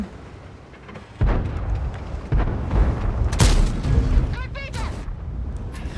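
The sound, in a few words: tank gun shot in World of Tanks video game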